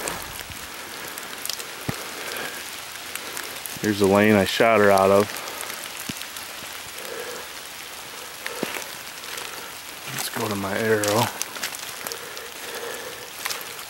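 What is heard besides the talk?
rain falling on a ground blind during a deer hunt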